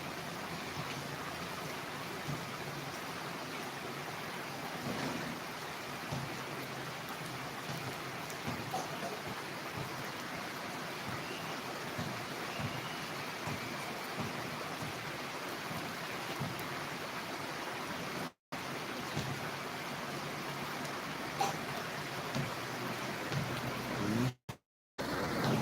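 Steady rain falls with a broad, constant hiss, close and even throughout, with no talk, only two brief dropouts near the end.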